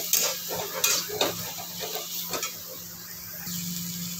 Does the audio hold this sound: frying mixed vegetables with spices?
yes